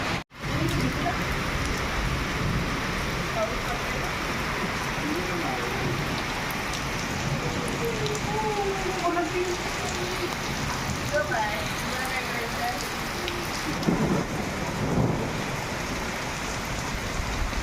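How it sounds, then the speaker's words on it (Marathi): Steady, heavy unseasonal rain pours down throughout in the Konkan, a dense continuous hiss with a voice talking faintly beneath it. "जोराचा पाऊस आलाय बघा"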